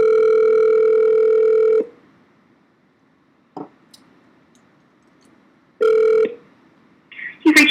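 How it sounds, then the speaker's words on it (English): An outgoing phone call rings loudly, with a long ringback tone, then a pause with a click, a second tone that stops short, and clicks as the line connects. "Well, it's ringing."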